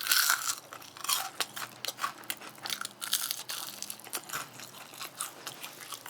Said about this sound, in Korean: 이게 먹는 소리에서 바삭한지 안 바삭한지 여러분이 느낄 수 있잖아요.